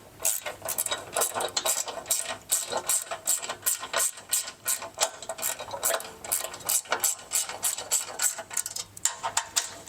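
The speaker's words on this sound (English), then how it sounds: "Now we're going to grab our 10mm socket and we're going to tighten that down." Rapid ratcheting clicks from a 10mm socket ratchet tightening a mud flap bracket on a 2024+ Ford Ranger Raptor, close and fairly loud in quick bursts with brief pauses, no talk.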